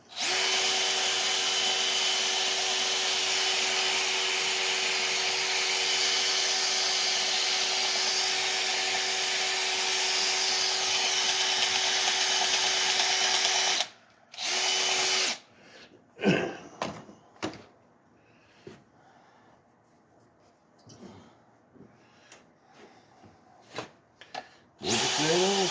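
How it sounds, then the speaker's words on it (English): A hammer drill runs slow and steady, spinning a brush to clean a 5.3 engine cylinder head. A continuous whirring tone lasts about fourteen seconds, then gives way to short bursts of brushing and scrubbing. "This is actually a hammer drill."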